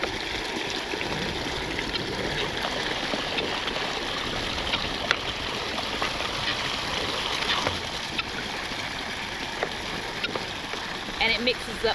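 Vitamin water mix for chickens poured from a container into a drinker, a continuous close trickle and splash lasting many seconds, with a voice speaking over part of it.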